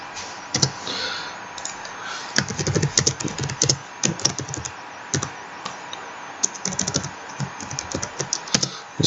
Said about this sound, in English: I'm going to just type in a print string here.